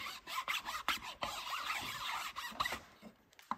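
Graphics being smoothed down by hand, producing quiet rasping rub strokes in a broken rhythm of short scrapes and longer swipes, close and faint with no talk.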